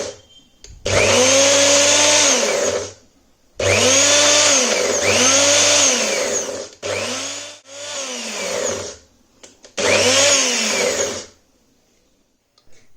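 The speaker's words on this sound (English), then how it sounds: "I am going to grind this again for another 30 to 40 seconds" A kitchen blender grinds peanuts into thick peanut butter in several loud, close bursts of whirring motor with pauses between, the pitch dipping and rising as the paste thickens.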